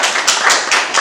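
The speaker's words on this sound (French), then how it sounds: "On applaudit très fort." An audience at a book launch claps in a short burst of applause, bright, uneven hand claps rising and falling in quick waves, fairly loud and with no talk over them.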